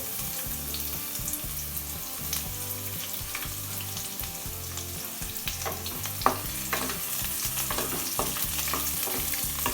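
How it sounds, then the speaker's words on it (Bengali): Chopped onions frying in hot oil with golden-browned garlic for a beetroot fry give a steady, loud sizzle, broken by repeated scraping and stirring of a spatula against the pan. "রসুনটা গোল্ডেন ব্রাউন হয়ে গেছে এখন আমি পেঁয়াজ কুচিগুলো দিয়ে দেব"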